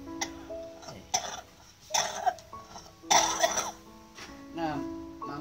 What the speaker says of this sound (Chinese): 那妈妈这个会咳嗽哈